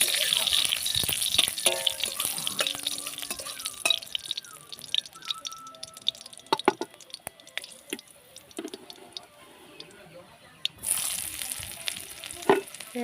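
Cauliflower stalks frying in a pan with panch phoron, a crackling sizzle with scattered sharp pops and clicks that thins out midway before a louder burst of frying near the end.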